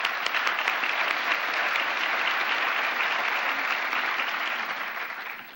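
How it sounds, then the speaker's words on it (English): An audience at a psychotherapy conference applauds the planning committee, a dense, steady roar of clapping that holds loud for over five seconds, then tapers slightly at the end, with no talk over it. "let's give them some applause."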